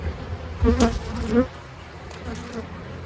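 A dense swarm of honeybees at an open hive in winter hums steadily close by, a continuous buzzing drone that swells briefly and then settles.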